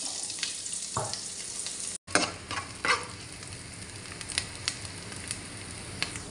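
Onion frying in a little oil for chicken vegetable fried rice, a steady soft sizzle with a brief gap and a few sharper crackles and stirring scrapes, close and alone.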